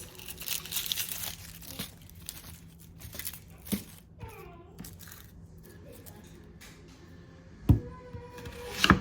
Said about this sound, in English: I'm just going to peel these onions